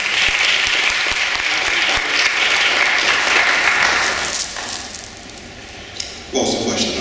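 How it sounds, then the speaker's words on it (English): Sustained applause from a middle school debate audience fills the room, dense and steady for several seconds before thinning out, with a brief burst of clapping near the end. "Please give yourself a round of applause on that also."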